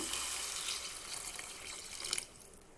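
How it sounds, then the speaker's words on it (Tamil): Water pours steadily into a pan of Chettinad egg curry, a close hissing splash that runs for a couple of seconds and then stops abruptly. "இது கூடவே குழம்புக்கு தேவையான அளவு தண்ணி சேர்த்துக்கோங்க"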